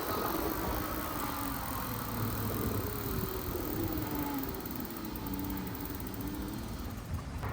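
A Victrip Janus 2.0 folding e-bike rides at full throttle up a steep grade, giving a continuous, even rush of motor whir, tyre roar and wind noise with no talking.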